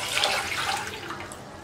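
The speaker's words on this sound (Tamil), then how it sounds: "முதல்ல தண்ணி ஊற்றுங்க," Water pours steadily into a vessel while rasam is being prepared in a home kitchen, a continuous splashing rush that stays close and fairly loud from start to finish, with no voices over it.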